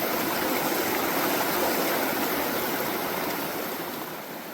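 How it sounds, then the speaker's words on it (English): Waterfall on a looping hiking trail, a steady broadband rush of falling water that fills the clip evenly and fades slightly toward the end, with no voices. "Quite a waterfall."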